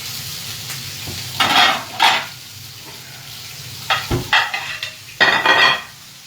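Sausage and vegetables frying in an Asian stir fry, with a low background sizzle broken by several loud bursts of hissing and scraping as the food is stirred, close up and without talk.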